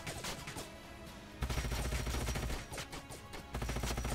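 Gunfire shots from Overwatch attacks in the turn-based strategy game Age of Wonders: Planetfall, a dense run of sharp cracks and impacts over a busy game soundtrack, with a louder burst midway.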